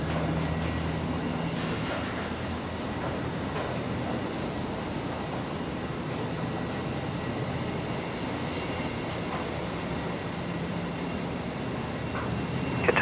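A steady, broadband jet roar of a Qantas aircraft taxiing along a taxiway at Brisbane Airport, heard from a distance as a constant, even rumble with no talk.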